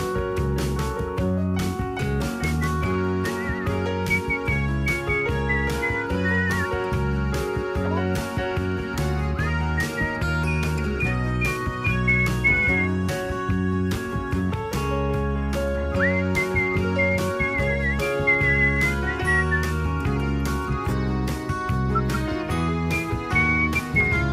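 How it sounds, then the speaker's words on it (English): An audience whistles along to a live performance of a folk song. Steady melodic whistling runs over strummed guitar and band accompaniment throughout. "Everybody get ready to whistle."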